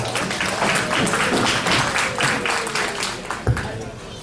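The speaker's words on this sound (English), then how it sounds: "let's give all four of those a round of applause" Audience at a 4-H/FFA steer and market hog show applauding steadily for several seconds, a dense even patter of many hands in an arena, with a sharper clap or knock near the end.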